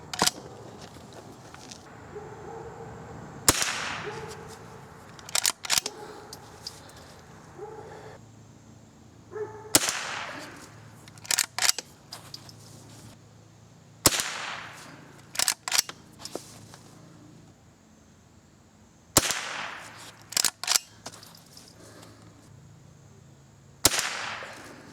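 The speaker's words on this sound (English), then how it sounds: "I got 5 more rounds loaded up. I'm going to be shooting at the bottom target." Sharp cracks from a Henry Golden Boy lever-action rifle in .22 rimfire, five single shots spaced several seconds apart with lever-cycling clicks between them, fired outdoors at a target range.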